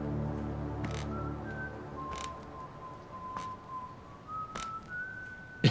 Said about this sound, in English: His whistling travels.